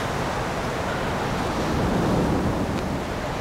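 Sea waves roar continuously and loudly, a dense, even wash of surf with no voices.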